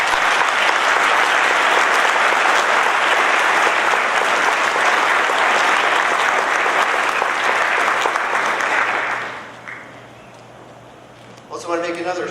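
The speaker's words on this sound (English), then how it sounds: "Please give them a loud round of applause." Loud, sustained applause from a large audience at an alumni awards convocation rolls on for several seconds, then fades out, leaving a quiet room before a voice begins speaking.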